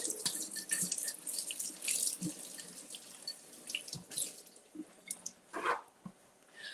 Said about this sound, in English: So, all right, we're gonna take our grapes out. Let me give this a wash.